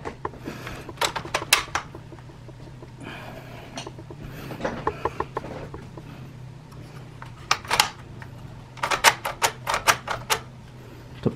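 A Hatsan Blitz .22 air rifle's bolt is worked back and forth, giving close, sharp metallic clicks and clacks in bursts with short pauses between, loud and alone.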